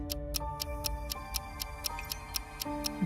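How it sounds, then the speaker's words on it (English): A clock in the game Neural Cloud ticks steadily, sharp regular clicks roughly every quarter second over a soft background of sustained musical tones, with no talk. "The clock's hand turns with a steady rhythm."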